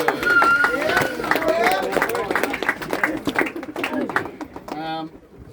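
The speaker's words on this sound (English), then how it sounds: "Bit of a round of applause for everyone" A round of applause at a celebration night, many hands clapping and cheering in a room for several seconds, gradually thinning out, with voices mixed in and a brief tonal sound at the end.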